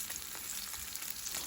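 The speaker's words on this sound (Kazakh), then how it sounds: "Міне брынзамызды қуырып жатырмыз." Brynza cheese fries on a grill pan with a soft, continuous sizzle and scattered faint pops, quiet and even throughout with no speech.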